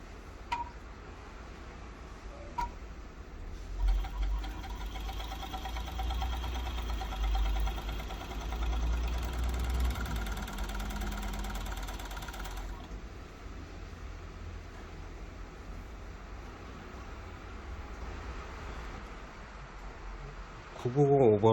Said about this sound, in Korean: 이 상태에서 원단을 넣고 테스트 재봉을 해보실 수 있습니다.